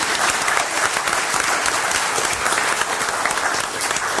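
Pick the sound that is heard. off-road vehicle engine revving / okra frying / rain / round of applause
round of applause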